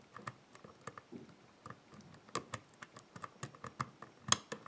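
A picking tool works the cam of a euro cylinder lock, giving a quiet, irregular series of close, sharp metallic clicks and small scrapes with brief gaps between them.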